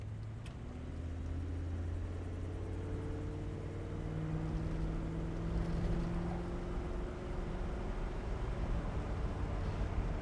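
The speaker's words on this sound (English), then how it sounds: "I don't know if you'll be able to hear the tranny shifting" A 1970 Chevrolet Monte Carlo with an automatic transmission cruising at about 50 to 60 mph, a steady engine drone and road rumble with rising and falling engine tones as it changes gears, fairly close and without talk.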